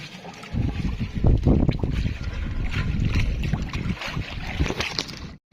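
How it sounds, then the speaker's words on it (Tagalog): Rough sea water sloshing and slapping around a small fishing boat, with wind buffeting the microphone, a steady loud wash throughout and brief voices talking over it. "Lakas po ng along dito ngayon."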